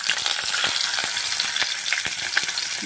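Eggs fry in hot oil in a pan, giving a dense, continuous crackling sizzle with small popping spits throughout.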